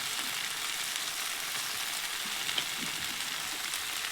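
Onion and tomato sizzle in hot oil with okra, a steady close frying hiss with faint crackles and pops throughout.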